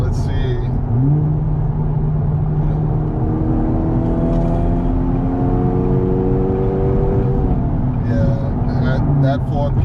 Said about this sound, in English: that 4th gear pull is just nice